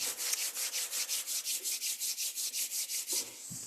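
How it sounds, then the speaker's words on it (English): Palms rubbing briskly together to warm them, a close, steady run of about fifteen even back-and-forth strokes, each a soft swishing burst, then stopping. "Rub my hands till they're nice and warm."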